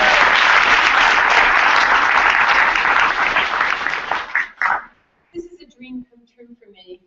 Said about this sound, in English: A round of applause for our guests today.